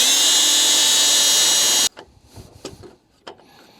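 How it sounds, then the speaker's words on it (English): A power drill drills into metal on a car's core support, whirring loudly and steadily for about two seconds, then cuts off, followed by a few light clanks and handling noises. "this one, we are gonna have to drill"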